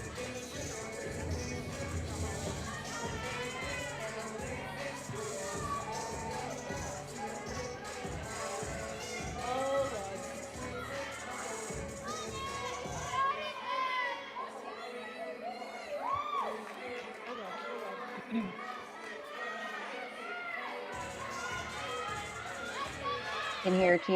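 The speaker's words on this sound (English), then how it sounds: "You can hear her teammates cheering her on." Gymnastics teammates at an intrasquad meet cheering and shouting encouragement, a lively crowd of voices rising and falling with chatter, fading partway through then returning in bursts.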